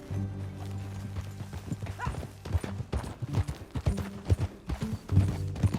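Rhythmic hoof clip-clops of a horse at a steady walk in the video game Red Dead Redemption 2, fairly close, over a low humming backdrop, with a brief whinny-like sound.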